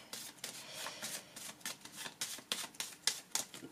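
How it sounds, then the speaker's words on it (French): Playing cards from a card reading are laid down over other cards in a quick series of light, crisp taps and slides, close and quiet, with no voices. "Je vais recouvrir donc le 7 de carreau, le 8 de pique et le valet de pique."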